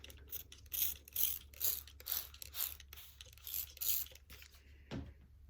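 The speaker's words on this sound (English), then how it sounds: "so I'm going to spray a little starch on it" Spray bottle misting starch onto quilt backing fabric: a rhythmic run of about eight short, close hissing spritzes, ending with a soft thump.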